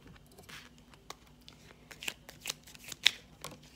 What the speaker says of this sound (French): Je vais les rebattre.